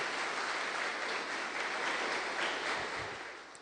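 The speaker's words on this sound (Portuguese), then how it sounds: "Dê uma salva de palmas para o Senhor Jesus." Applause from a church congregation at a Sunday service, a dense, steady wash of clapping hands that holds at a fairly even level and fades slightly toward the end.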